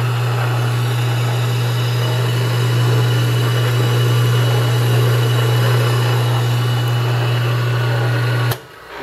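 A TSUNG FU universal tool cutter grinder runs with a steady, loud motor hum and a strong constant drone before shutting off abruptly at the very end.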